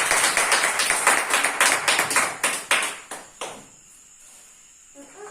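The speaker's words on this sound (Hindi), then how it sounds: "ताली बजाएंगे" A church congregation claps their hands together in a burst of fairly quick, even claps that stop after about three seconds, leaving a quiet room with a faint sound near the end.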